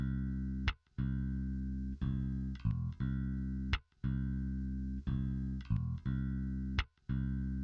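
A bass guitar in a looped section, sustaining a low, buzzy tone broken by loud, sharp clacks that return every second or so in a steady repeating pattern, with no talking.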